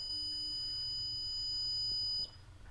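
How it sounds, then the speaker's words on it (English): An alarm sounds as a steady high-pitched electronic tone in a house under paranormal investigation, loud and continuous for about two seconds before cutting off abruptly, leaving low background rumble. "I freaking heard that, and then the alarm went off."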